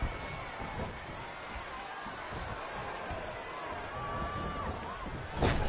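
A clothesline impact in the wrestling video game WWE 2K20: a sharp slam bursts out near the end over a steady roar of arena crowd noise, while commentary voices talk throughout.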